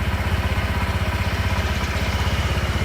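A rental motorcycle in Pattaya idles close by after starting, a steady low chugging pulse with even mechanical clatter and no talk over it.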